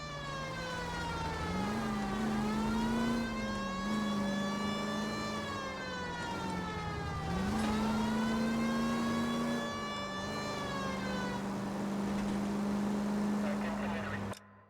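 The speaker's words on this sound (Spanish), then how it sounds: "Escucho mucho el motor" Car engine in the video game L.A. Noire, a steady loud drone that rises and falls in pitch through gear shifts across the whole stretch, with a brief siren-like tone mixed in.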